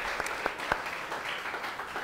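Applause from a church congregation during a Sunday service, a steady wash of many hands clapping throughout with a few sharper claps standing out, moderately loud and continuous.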